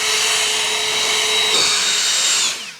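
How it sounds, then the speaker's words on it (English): A powerful air blower dries a car during mobile detailing, a loud, close, continuous high whine that holds steady for a couple of seconds before winding down at the end. "bring his blower over to this side"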